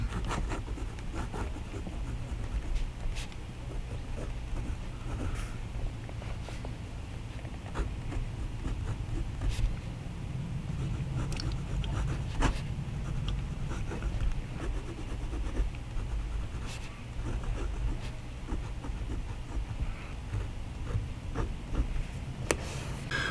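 A Jinhao 58 fountain pen with an extra fine nib scratches across paper in soft, irregular strokes with small ticks, close and quiet over a low background hum.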